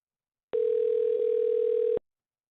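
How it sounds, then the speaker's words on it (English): A telephone tone during an outgoing call: one steady electronic tone, close and clear, lasting about a second and a half between silences. "All right, I'm gonna call Jack back"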